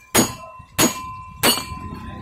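Three sharp metallic hammer strikes drive out a ceiling fan bush, evenly spaced and loud, each ringing briefly before the next blow.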